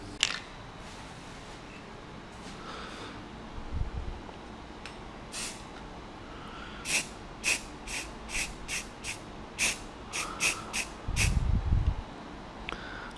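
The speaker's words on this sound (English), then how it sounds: "Basically just spray it directly on top, put a huge glob over it." Short hissing bursts of an aerosol primer spray can coating DIY speakers, several quick sprays in a loose rhythm, close by, with occasional low thumps and handling noise.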